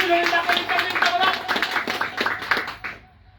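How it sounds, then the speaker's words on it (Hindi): A crowd of party workers at a Swabhimani Sena political rally claps in quick, fairly regular bursts with a voice over it, then stops abruptly, leaving near silence. "तालियां बजाओ।"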